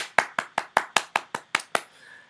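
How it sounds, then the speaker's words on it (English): About ten sharp, evenly spaced claps ring out one after another, close and fairly loud, fading into a faint tone at the end, a small round of applause with no voices. "Another round of applause for Ava Rice."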